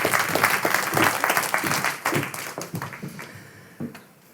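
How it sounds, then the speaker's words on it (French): A seminar audience claps for the participants, a close, lively round of applause that thins out and stops within a few seconds. "On les applaudit."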